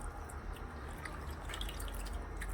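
Water trickles and drips steadily while mango peels are washed during traditional Maharashtrian aamras preparation, a faint, continuous splashing close by.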